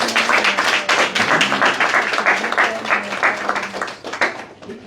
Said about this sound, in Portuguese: Uma forte salva de palmas para o Dr. Denis.